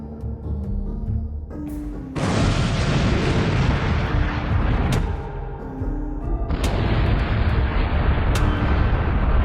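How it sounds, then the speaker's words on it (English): Munitions hit by a drone strike go off in a series of heavy blasts, several sudden booms followed by a dense, continuous roar of burning and secondary detonations, loud and close. "The munitions were destroyed in a powerful explosion."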